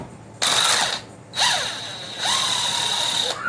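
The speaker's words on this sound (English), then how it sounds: "you just grab hold of a handy drill" A power drill driving screws on a Losi Tenacity RC truck whirs in three bursts, spinning up and winding down with a high, steady whine, close and loud.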